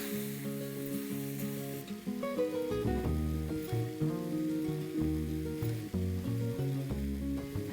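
Prawns fry with pepper on a hot tawa with a continuous crackling sizzle. Scrapes and stirring knocks come through close by, with a tonal background hum and no speech.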